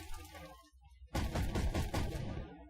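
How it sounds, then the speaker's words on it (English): Tank gunfire from the video game Armored Warfare, with a Ramka-99 tank in the match: a sudden loud blast and crackling burst after a quieter stretch, followed by a second strike as the roar decays. "And I'm opening fire on the warrior."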